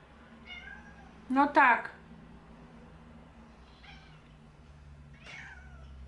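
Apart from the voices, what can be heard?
cat meowing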